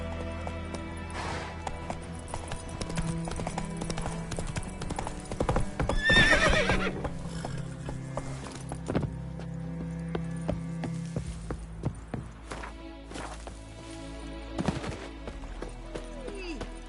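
A horse in The Witcher 3 gallops with steady rhythmic clip-clop hoofbeats and lets out one loud neigh partway through.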